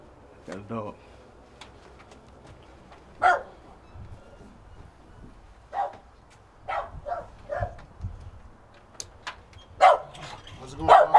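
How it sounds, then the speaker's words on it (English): A dog barks in short scattered bursts at a residence during a bounty hunter visit, several sharp yaps spread over the scene, mixed in among people talking. "Got a dog."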